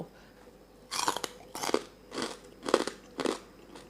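Someone eating fresh raw vegetables dipped in chili paste makes five loud, crisp crunching bites, each a separate burst of chewing up close, evenly spaced over a few seconds, with no talking.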